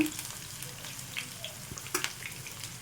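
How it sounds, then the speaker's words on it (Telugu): Puffed rice snacks deep frying in oil over a medium flame give a soft, low bubbling sizzle with scattered small pops, faint and close, with no talking. "ఇవైతే రెండు వైపులా కూడా మంచిగా వేయించుకోవాలండి"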